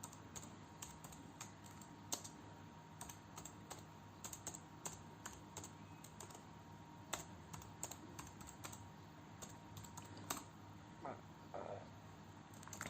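Steady typing on a computer keyboard, entering an email address into a website text box, with quick continuous key clicks, close and fairly faint, unbroken for the whole stretch.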